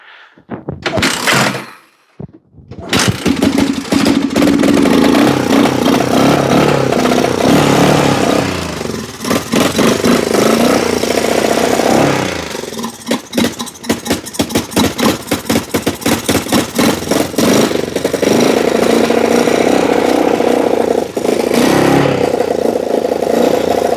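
A mudding vehicle's engine cranks, catches and starts, then idles loudly and revs repeatedly up close, with rough uneven sputtering bursts throughout.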